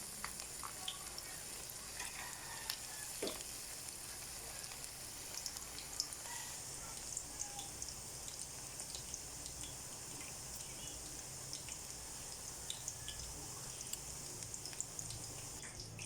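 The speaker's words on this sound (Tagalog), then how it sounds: "Piniprito po muna ang ating chicken bago isi-set aside natin po ang chicken" Chicken pieces frying in hot oil for sweet and sour chicken crackle and hiss continuously, a steady close sizzle with small pops and no talk over it.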